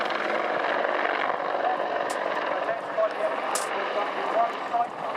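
An attack helicopter gunship flies a loop at an air show, making a continuous, distant rotor and engine drone. A voice talks over it throughout.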